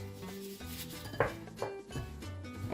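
Corn flour and a pinch of salt being mixed in a bowl, soft scraping and rubbing with a few light knocks against the bowl, close and quiet.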